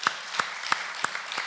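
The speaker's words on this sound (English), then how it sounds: "give Kat a nice round of applause" Audience applause at a live recovery-themed radio show and stream, a short burst of moderately loud claps with a few sharper hand strikes standing out, no voices.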